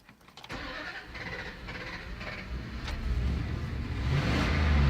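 An engine cranks and catches on a stalling Chrysler-type truck. Starter whir and rough firing build into a rising idle, fairly close.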